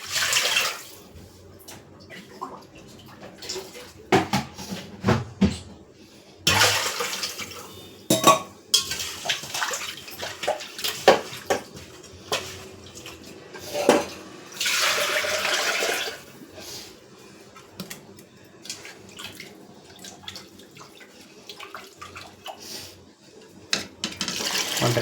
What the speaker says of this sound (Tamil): ஒன்றரை செம்பு தண்ணி.